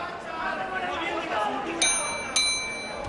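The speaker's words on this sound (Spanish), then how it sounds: "Suena la campana, termina el asalto" Two bright metallic boxing bell rings sound close together, ending the ninth round of a boxing match, over a noisy crowd and commentary voices, each dinging and fading.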